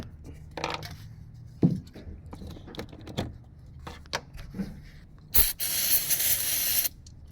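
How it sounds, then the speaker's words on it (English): Aerosol terminal spray hissing onto a Porsche Cayenne's electrical terminals during fuel pump work, a steady close hiss of about a second and a half after scattered clicks and handling noises in a workshop. "Just spray the terminal just like that."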